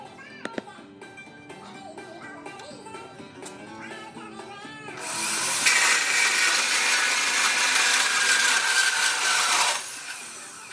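A power tool cuts flat steel rail for a rocket stove grate. Quieter tonal sounds come first, then a loud, steady grinding roar runs for about five seconds and cuts off abruptly.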